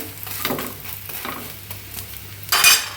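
Chicken pakora being refried in hot oil, with a steady low sizzle and intermittent stirring scrapes, ending in a louder burst of crackling spatter near the close.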